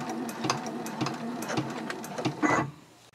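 A sewing machine stitches an eyeglass case down to the bottom and backstitches at the end, a steady near whirring run of needle strokes with a brief louder burst before stopping.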